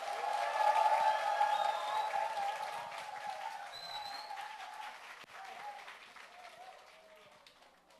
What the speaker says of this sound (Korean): 힘차게 박수로 환영하도록 하겠습니다